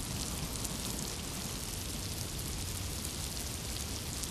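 Steady, dense rain falls throughout in the Miasmata game world, a constant close hiss with no voices over it.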